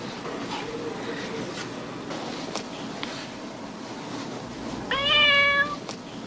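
Cat in a Whiskas cat food commercial gives one clear, bright meow near the end, heard over a soft background bed with faint scattered sounds.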